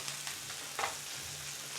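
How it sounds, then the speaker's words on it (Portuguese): Rice fries in a pan with a constant hissing sizzle, broken near the middle by a short scrape as it is stirred, and no voices. "Enquanto o arroz vai fritando"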